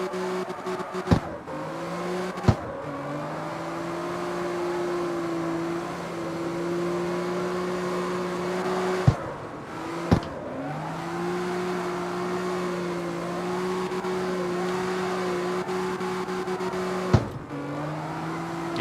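A car drifting in the street-racing video game CarX Street, a sustained engine drone holding a steady pitch with a few sharp clicks and brief breaks where the engine note drops and picks back up, loud and continuous.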